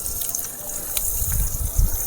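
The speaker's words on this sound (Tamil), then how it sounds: "அப்படியே இந்த முட்டையில் உடச்சி ஊற்றலாம்" Eggs cracked and poured into a hot pan of fried onions and chillies, giving a continuous close sizzle with a few soft low thuds as they land, no voices.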